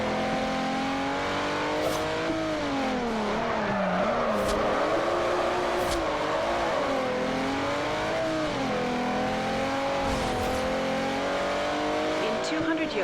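Jeep Wrangler racing in the Forza Horizon 2 video game, its engine a continuous whining drone that rises and falls with gear changes and throttle, with a few short tire squeals and clicks over it.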